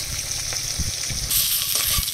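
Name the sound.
fish frying in oil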